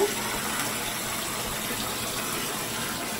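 Tap water gushes steadily into a puppy's bath, a close, continuous splashing rush with no pauses and no voices over it.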